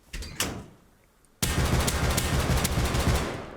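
An LR-300 rifle in the game Rust fires, starting with two quick separate shots and a short lull, then breaking into a continuous loud burst of automatic fire that runs to the end.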